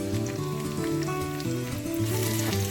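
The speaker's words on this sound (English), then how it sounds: "I'm going to throw in my onions and garlic" Onions and garlic sizzle in heated oil for an asparagus stir-fry, a continuous close crackling fry with a faint background hum, no voices.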